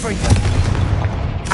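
A Confringo spell explosion in the Hogwarts video game sets off a deep boom with a rumbling low tail. A voice speaks over it.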